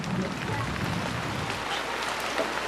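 Steady rain falls as a continuous broadband hiss across the whole stretch, with no single drops standing out.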